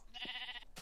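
A single short sheep bleat from Minecraft, faint and clean, a brief wavering game sound effect lasting under a second with no talk over it.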